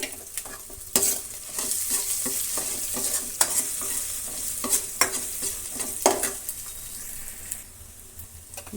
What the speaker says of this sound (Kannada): ಸುಮ್ಮನೆ ಹಾಗೆ ಒಂದು ನಿಮಿಷ ಹಾಗೆ ಬಾಡಿಸ್ಬೇಕು ಅಷ್ಟೇ